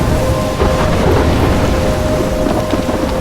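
A thunderstorm in Life is Strange Remastered: loud, dense rain roars continuously with low rumbling throughout, and a faint steady tone runs underneath.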